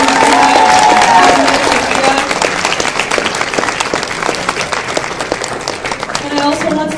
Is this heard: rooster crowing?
no